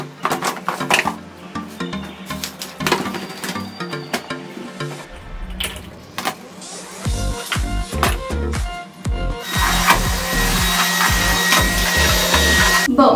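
A vacuum cleaner runs in a bathroom, its steady motor drone loud and close, mixed with clattering knocks and bumps of items being moved, the suction sound swelling fuller toward the end.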